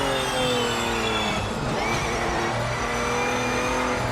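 A race car engine in Project Motor Racing, with a steady loud engine tone and shifting harmonics that dip and climb as the gears drop, under faint tyre squeal, no talk.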